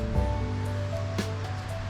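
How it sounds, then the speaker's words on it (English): A waterfall on the Cwm Gwrelych Geo Heritage Trail in South Wales rushes in a steady, continuous roar of falling water, close and fairly loud, with no voices. "This is a waterfall."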